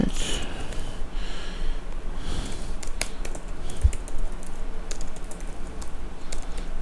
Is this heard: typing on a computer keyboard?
yes